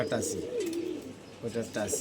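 Racing pigeons coo in a series of soft, rolling calls, fairly close, with a pause mid-way before the cooing resumes; faint chatter and background noise sit underneath.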